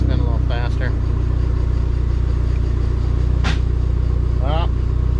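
A Dodge SRT4 engine runs with a steady, loud mechanical drone throughout, while people talk briefly over it.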